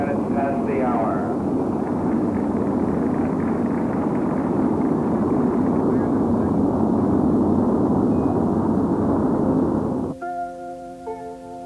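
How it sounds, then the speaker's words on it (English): Rocket liftoff at a U.S. space program launch: a loud, sustained broadband roar fills about ten seconds at steady level, then cuts out sharply into a quieter tonal ending. "Launch commit, liftoff. We have liftoff 49 minutes past the hour."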